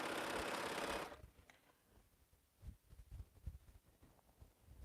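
Longarm quilting machine stitching with an electronic stitch regulator, a loud steady mechanical whir for about one second, then stopping and leaving faint low knocks and handling thumps.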